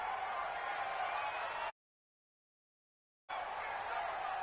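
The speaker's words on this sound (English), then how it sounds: "the crowd getting into it as we come up on a big 3rd down" Football stadium crowd roaring steadily during a big third-down play, a dense wash of cheering that cuts out briefly in the middle and then returns at the same level.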